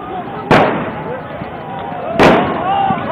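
Two sharp, loud gunshots ring out about two seconds apart during a street brawl between PTI and PPP political party workers, each crack standing out over a steady background of crowd noise.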